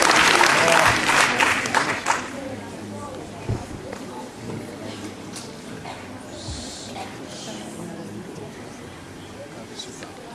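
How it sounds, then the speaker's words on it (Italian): Applause for a teenage singer at a local village festival, loud clapping for the first two seconds that quickly thins to scattered claps and murmuring crowd noise, with talk underneath. "Un applauso a lei."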